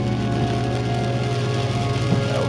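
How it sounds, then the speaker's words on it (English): Heavy rain drums steadily and loudly on a car windshield during a nighttime monsoon storm, a dense continuous patter with an engine or fan hum underneath and no talking. "Raining pretty hard."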